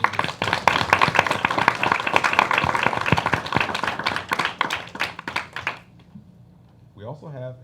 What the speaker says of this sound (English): I think we could give them a round of applause.